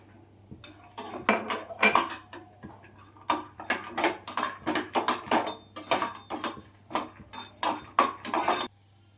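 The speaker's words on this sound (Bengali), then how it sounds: "আমি চুলোতে কড়াই বসিয়ে দিয়েছি, কড়াইটা গরম হয়ে গেছে। এবার আমি বাদামগুলো একটুখানি ভেজে নেব।" Nuts being fried in a hot kadai, heard as a rapid run of dry rattling clicks and metallic scrapes as they are stirred around the wok, close, with a steady low hum underneath.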